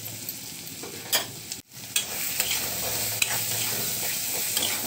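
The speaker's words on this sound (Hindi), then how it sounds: "टमाटर के गलते तक भूनने देते हैं।" Tomatoes with red chilli powder, coriander powder, garam masala and turmeric fry in a pan, giving a continuous close sizzle broken by scraping stirs of the spoon and a brief pause in the sound.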